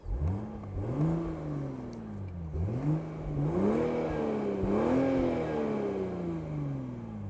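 A 2024 Toyota GR Supra sports car with a manual gearbox sits stationary, its engine burbling and rising in a few short blips and swells of revs, close and steady with no talk.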